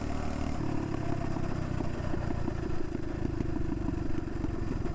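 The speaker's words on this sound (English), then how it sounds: "You hear those backfires? Oh my god. It's non-stop backfires." A motorcycle engine runs close by with a rapid, nonstop crackle of backfire pops layered over its low, rough rumble.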